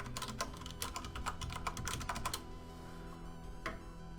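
Rapid keystrokes on a computer keyboard during the entry of a password for a Synology DS1515+ NAS setup, a quick run of close clicks for about two seconds, then a quieter pause and one more tap.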